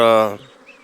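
A swarm of honey bees buzzing close by in a loud, dense drone that lasts under half a second, then drops to a faint hum.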